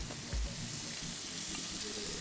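Mangoes sizzle and crackle steadily in a hot oiled pan, with a brief soft thump early on.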